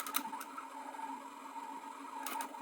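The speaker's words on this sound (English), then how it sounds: "I'm going to wrap it around my bobbin several times and then set it to wind." A sewing machine winds thread onto a bobbin with a steady, quiet motorized hum and whir running throughout, plus a couple of faint brief clicks.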